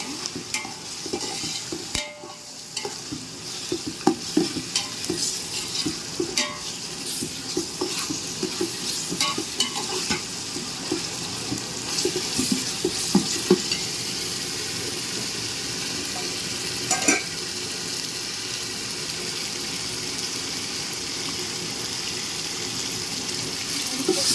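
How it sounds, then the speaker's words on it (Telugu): Ginger garlic paste fries in a pan for Andhra-style prawn pulao, a steady close sizzle that runs the whole time, broken by frequent scraping stirs of a spoon against the pan. "అల్లం వెల్లుల్లిపాయ పేస్ట్ వేసి బాగా వేయించుకోవాలి"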